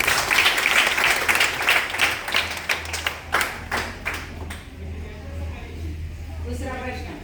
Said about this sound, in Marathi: बरोबर आहे. शाबास. टाळ्या वाजवा.